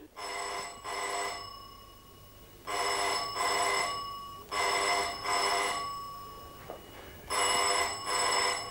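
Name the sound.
telephone ringing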